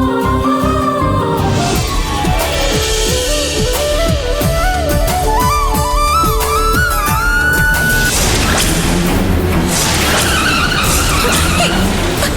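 A car braking hard on a road, with repeated sharp tire squeals and skidding screeches rising and falling over a rumbling engine, loud and close, ending in a rougher crash-like burst.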